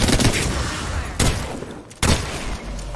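Bursts of gunfire from a squad firefight in the battle royale game Apex Legends, with rapid volleys cutting in sharply at intervals against a dense background of in-game noise.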